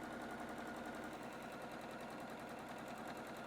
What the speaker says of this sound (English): I'm just going to go ahead and start stitching straight across